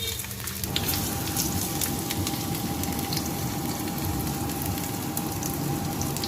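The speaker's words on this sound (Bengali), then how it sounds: "তো পেঁয়াজিগুলোকে ভেজে নিয়ে আমি আমার শ্বশুরের খাবারগুলো দিয়ে দেব।" Onion fritters (peyaji) frying in a pan, a dense continuous sizzle like steady rain, loud and close for the whole stretch, with a faint tonal hum running underneath.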